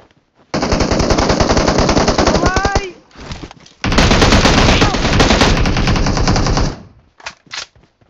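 Automatic gunfire in the mobile shooter PUBG Mobile, heard as two long, loud, rapid bursts with a brief gap between them and a few scattered shots afterward.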